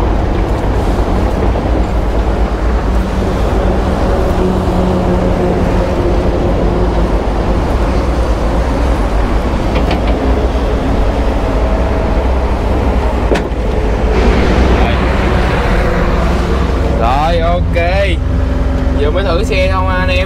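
IHI 55UJ mini excavator engine idling, a steady loud low-pitched drone with harmonic hum throughout, while someone talks over it.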